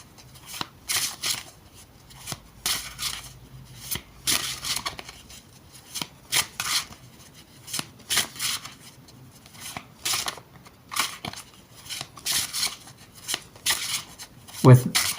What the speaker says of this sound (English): So when you shuffle the cards,